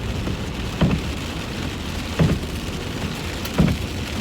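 Heavy rain drums steadily on a car roof and windshield while driving, a dense constant hiss with a few louder thumps at regular intervals.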